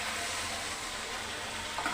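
Masala frying and being stirred in a pan for a fish curry, a soft continuous sizzle with a louder scrape of the spoon right at the end.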